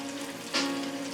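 Steak sizzling in a pan while cooking a steak dinner, a steady close crackling hiss with a brief louder burst midway, no talking.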